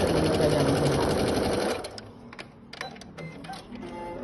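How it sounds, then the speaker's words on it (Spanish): A sewing machine stitches a fabric seam with a loud, rapid, steady mechanical whir for almost two seconds, then stops abruptly, leaving quiet handling noises. "enfrentando los derechos de la tela y cosiendo a el margen de costura que hayamos dejado establecido"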